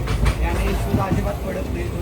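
Loud rumbling of a train in motion, a steady heavy roar with low clattering, with voices talking faintly underneath.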